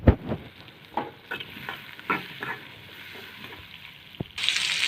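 Papaya frying in a pan, a quiet sizzle broken by several sharp utensil taps and scrapes against the pan, with a louder hiss surging up at the end.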